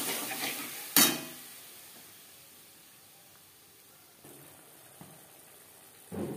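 Spice paste poured into sizzling tempering in a pan for a bottle gourd and fish-head curry, a sharp clatter and burst of sizzle, then a faint steady hiss with a few more stirring scrapes.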